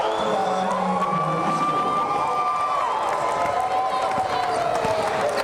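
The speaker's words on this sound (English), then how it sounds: "That gets a rise out of this crowd here at the Highland Performance Arena." Crowd at the Highland Performance Arena cheering after a dunk in a college basketball game between Lindenwood-Belleville and McKendree, a loud sustained roar with whoops and shouts over a commentator's voice.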